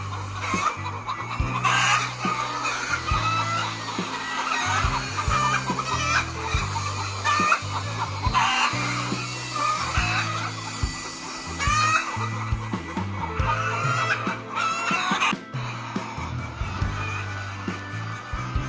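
Chickens in a cage at a poultry farm cluck and call almost without pause, with many birds overlapping close by and a rooster-like call now and then.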